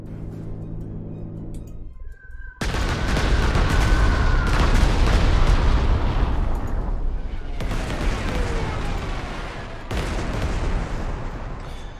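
Artillery barrage in the WWII strategy game Corps 2 on a 1943 campaign at Stalino, opening with a couple of seconds of quiet before heavy, sustained rumbling blasts roll in and continue loud and dense to the end.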